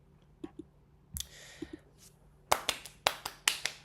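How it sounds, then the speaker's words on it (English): Sharp hand claps sound close and dry, starting as a few scattered light taps, then a burst of about eight crisp claps in quick succession, all in a quiet room with no talk. "Claps!"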